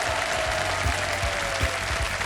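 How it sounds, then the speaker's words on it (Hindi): A studio audience on the quiz show Kaun Banega Crorepati claps together in sustained, even applause with a few sharper individual claps standing out, fairly close and steady throughout. "तालियां बज जाएं इनके लिए।"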